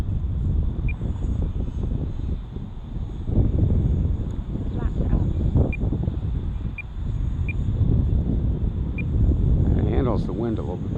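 A small UMX Timber RC model airplane flies in gusty 8-17 mph wind on an outdoor field, its faint motor whine buried under heavy roaring wind noise while someone talks throughout.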